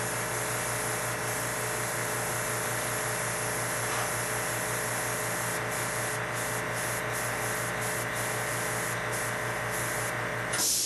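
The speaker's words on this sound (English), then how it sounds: "Oh, I swear, this compressor is almost as bad as my old camera." An airbrush compressor hisses loudly and steadily close by as paint is sprayed onto a model landing pad, a continuous spray noise with a low motor hum underneath and brief breaks in the hiss near the end.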